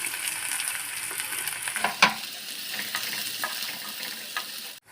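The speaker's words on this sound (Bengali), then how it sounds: "এই তেলের মধ্যে দিয়ে দিলাম পেঁয়াজ কুচি।" Chopped onions frying in oil for a prawn and potato curry, a steady sizzle with a sharp clatter partway through and scattered stirring scrapes, fading out at the end.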